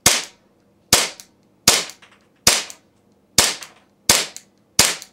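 A CQB Master full metal Desert Warrior airsoft gun fires seven loud, sharp snapping shots, spaced about evenly under a second apart, each crack close and dry with a short decay and no talk.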